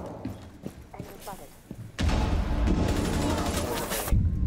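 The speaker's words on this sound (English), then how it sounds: "Throwing flashbang." In Rainbow Six Siege, a flashbang goes off with a sudden loud burst after quiet footsteps and shuffling. A dense ringing wash of noise follows and holds for about two seconds.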